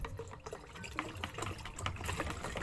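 Amistar Top fungicide is stirred into water to treat fungus on grapevines; close, continuous swishing and sloshing of liquid with small splashy bursts runs throughout the short stretch, with no speech.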